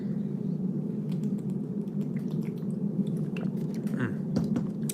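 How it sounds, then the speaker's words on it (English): A plastic water bottle crinkles and clicks as it is handled close to the microphone, scattered crackles and taps over a steady low hum. "Mind the noise of the water bottle."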